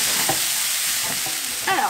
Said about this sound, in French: On va faire cuire une petite dizaine de minutes en mélangeant régulièrement.